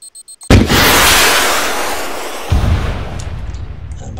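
A missile launcher hit exploding in the video game Arma 3: a few short clicks, then a loud, close explosion with a long rumbling decay and a second boom partway through.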